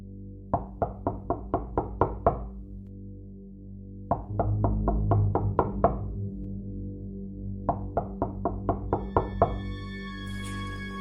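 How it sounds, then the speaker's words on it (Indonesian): Knuckles rap on a window in a horror story: three quick bursts of about eight or nine sharp knocks each, separated by pauses, over a low rumbling drone. "gue dengar ketukan jendela"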